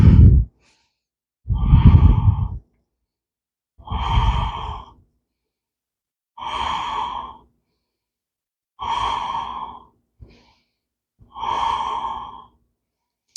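Deep breathing during a chair yoga stretch: about six slow, close breaths in steady succession, each a soft airy rush with pauses between, and no talking.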